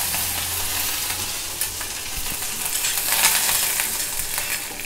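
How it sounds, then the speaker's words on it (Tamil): Mustard seeds and urad dal fry in hot oil in a kadai, a steady close sizzle dotted with small pops and stirring scrapes. "கடாயில் வந்து எண்ணெய் நல்லா காஞ்சிடுது. கொஞ்சம் கடுகு, கொஞ்சம் உளுத்தம் பருப்பு"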